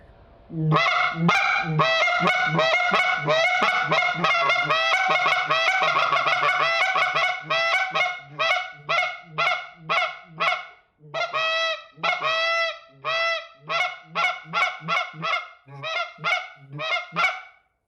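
A goose call blown in a rapid series of short, sharp, high-pitched honks, the first half packed tight and loud, then breaking into separate clipped notes at a steady rhythm, close and alone.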